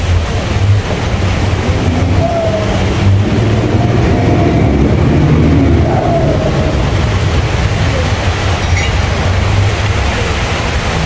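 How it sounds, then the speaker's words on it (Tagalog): Heavy rain pours onto a backyard vegetable and fruit garden, a thick, constant broadband hiss mixed with low wind rumble that holds steady and loud throughout. "Ayan na po, lumalakas na po ang ulan."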